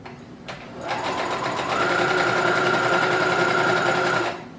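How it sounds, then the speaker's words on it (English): A sewing machine stitches a peasant tunic, starting after a brief click and running as a loud, steady whirring hum for about three seconds before stopping. "This is my wife's sewing machine, and this thing is amazing."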